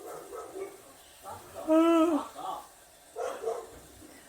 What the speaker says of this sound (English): The neighbours' dogs have been going off.